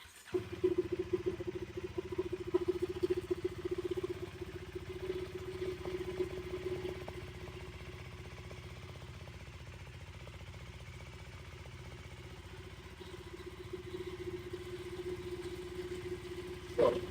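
A 2024 KTM Duke 390 motorcycle engine runs steadily for the whole stretch, a constant mid-pitched hum with louder throttle surges early on and a brief rise at the end, with no talking.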